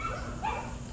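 Dogs bark and whimper faintly in the distance outdoors, caught on a CCTV recording, with a short higher yelp rising above a steady low background hum.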